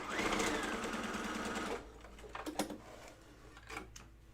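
Bernina 140 sewing machine stitching jeans, a fast steady whirring run that stops abruptly, followed by a few faint clicks and handling taps, quiet overall.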